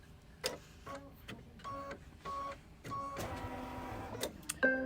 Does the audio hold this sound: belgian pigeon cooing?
no